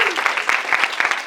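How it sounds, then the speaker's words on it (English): An audience at a live words-and-music performance event gives a short burst of applause, sharp claps close and dense, with a faint voice at the start. "Can we give him another round of applause?"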